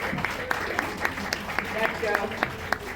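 An audience at a Women's Day event at the College of Dental Sciences, Davangere, applauds in a steady, rhythmic clap, sharp repeated hits at a moderate level over a murmuring hall.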